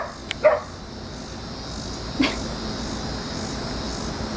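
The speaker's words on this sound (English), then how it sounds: "Who is that barking?" Puppies from a litter letting out two short, separate barks against a low background rumble, with a long pause between them.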